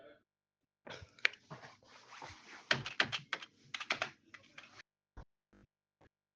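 Rapid typing on a computer keyboard: bursts of close, crisp key clicks with short pauses, trailing off into a few isolated taps near the end.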